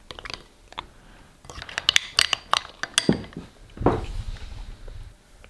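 Slime being mixed and stirred in a small container, giving soft wet squishes and sticky clicks in an irregular close-up rhythm, with scrapes against the sides and a louder squelchy stretch near the end.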